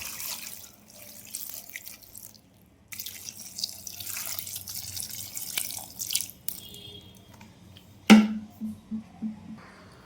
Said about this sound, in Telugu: నెక్స్ట్ ఇంకా వాటర్ వేసేసుకుందాం తగినన్ని.